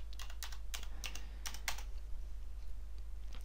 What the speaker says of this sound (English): We go to the Chrome web store and we type in HTML5 Notepad.